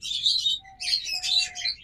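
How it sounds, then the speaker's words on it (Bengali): Caged pet birds, a running pair that has just started laying eggs, chirp in quick, bright bursts close by, with a few short gaps between the calls. "টপ কোয়ালিটির পাখি, এর চেয়ে আর ভালো কোয়ালিটির পাখি হতে পারে না"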